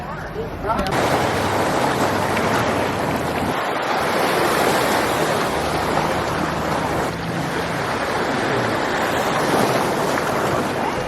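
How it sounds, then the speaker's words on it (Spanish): Sea waves surge and water rushes into a seawater pool at a Mexican seaside park, a loud, continuous broadband roar with wind buffeting the microphone, steady throughout. "El sonido del mar es algo que me relaja muchísimo,"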